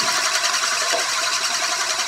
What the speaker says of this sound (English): The disc is almost horizontal. It's rattling round extremely fast